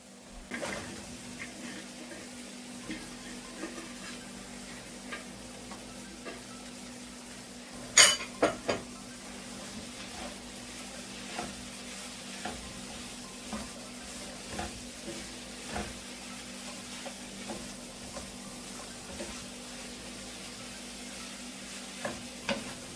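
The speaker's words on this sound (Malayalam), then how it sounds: "ഇനി ഞാൻ മഷ്റൂം ഇടാൻ പോവുക." Mushroom pieces fry in a pan of cooked-down spiced masala while being stirred, giving a soft steady sizzle with scattered scrapes and clinks of a utensil against the pot and one sharper clatter partway through.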